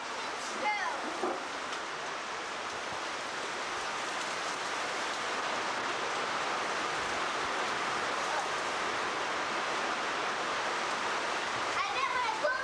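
A heavy downpour falls on a backyard, heard through an open window as a constant, loud, even rush of water, with brief voices at the start and end.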